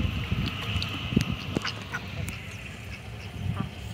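Country ducks on a farm quack in scattered bursts at close range over a busy outdoor background of birds and hum, with a few brief voices in between.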